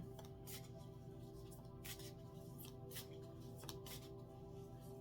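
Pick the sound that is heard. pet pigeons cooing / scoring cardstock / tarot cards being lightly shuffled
tarot cards being lightly shuffled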